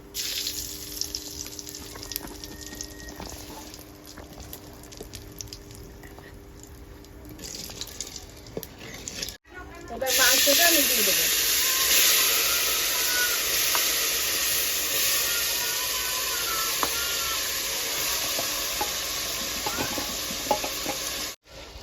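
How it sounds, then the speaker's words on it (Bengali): Cumin seeds and dried red chilies hit hot oil for tempering, and a loud, sharp sizzle bursts out suddenly after a quieter stretch. The crackle then holds steady and close for over ten seconds. "সাদা জিরে দিয়ে দিলাম ফোড়নে। শুকনো লঙ্কাটা দিলাম।"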